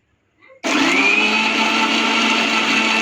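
A mixer grinder starts abruptly after a brief faint clatter and then roars loud and steady, whirring as it grinds spice paste of cumin and water, with no talking.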